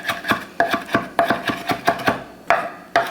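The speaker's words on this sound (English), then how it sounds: "I'm just going to give it a fine chop" Kitchen knife finely chopping Italian parsley for a rib basting, quick repeated sharp taps on a cutting board in an uneven rhythm, close and clear with no talk.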